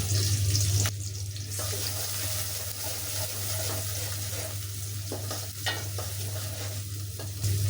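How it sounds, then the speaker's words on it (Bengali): Chopped onion and garlic hitting hot oil in a pan for spinach and lentils, a sudden loud sizzle that settles into steady frying hiss with a low hum beneath. "আমি দিয়ে দিচ্ছি পেঁয়াজ রসুন কুচি"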